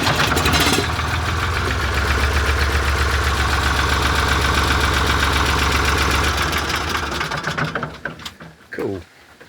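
A backhoe engine starts and runs loud and close with a steady low rumbling diesel chug, then sputters and dies away over the last couple of seconds.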